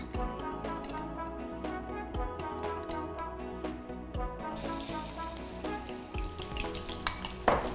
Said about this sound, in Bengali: তেলটা গরম হয়ে গেছে। হ্যাঁ হ্যাঁ, এবার আমরা আদা রসুন একসঙ্গে দিয়ে দেবো।